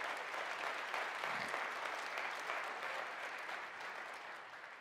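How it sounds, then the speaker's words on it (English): A church congregation applauds during a Sunday morning service, a thick wash of many hands clapping together that holds steady and then gradually fades toward the end. "give the Lord a hand clap this morning."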